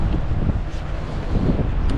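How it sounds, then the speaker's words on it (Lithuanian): Wind buffets the microphone on an alpine mountain pass in Italy along the Tour du Mont Blanc, a loud low rumbling roar with gusty swells lasting the whole moment. "Vėjas yra"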